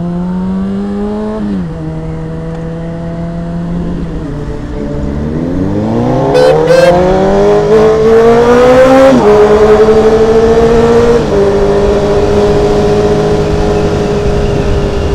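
Loud car engines droning and revving, pitch sliding down and then climbing steeply as they accelerate, sustained and close with a brief whine near the peak.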